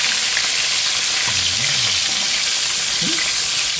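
Fish fry in a pan with a loud, close, steady sizzle and crackle throughout, plus a few faint low tones briefly rising underneath.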